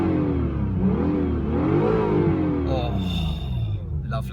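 A Honda NSX engine revs in Sport Plus mode, a loud rising and falling blip of engine note swelling then easing off, with a hissing tail near the end.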